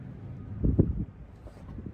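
Low, rumbling wind buffets the microphone steadily, with a stronger gust swelling briefly partway through.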